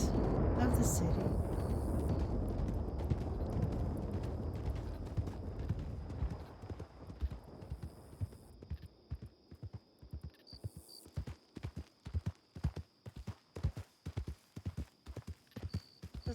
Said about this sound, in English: Just a little thud of the hooves now.